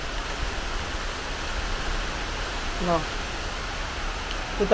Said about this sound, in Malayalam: മഴ പിന്നെയും വരുവാ